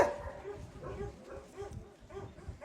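A mother dog and her puppies in front of a house give faint, scattered whimpers and small yips, close by but quiet throughout.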